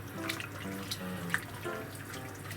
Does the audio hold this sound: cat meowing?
no